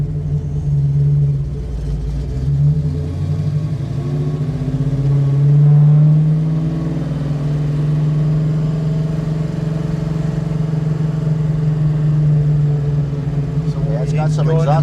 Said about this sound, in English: It's got some exhaust note to it